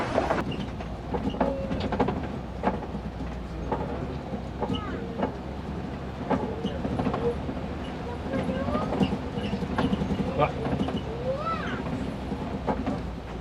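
A safari truck on the Kilimanjaro Safaris ride at Disney's Animal Kingdom rolls over a wooden bridge, giving a loose, rattling rumble with scattered knocks and clatters, fairly distant and steady, with faint voices in the background.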